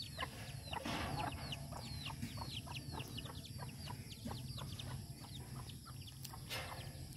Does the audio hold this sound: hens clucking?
yes